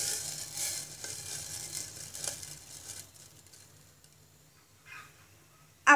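A tablespoon of sugar sizzles and crackles in hot ghee as it melts toward caramel, a soft hissing fry that is strongest at first and fades to a faint simmer, ending with a sharp knock.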